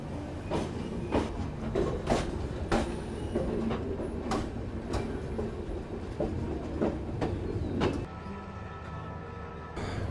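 The Sarvodaya Express pulls out of Shri Mata Vaishno Devi Katra railway station, its wheels clacking in a steady rhythm of sharp repeated clicks over a continuous rolling rumble, heard from inside the train.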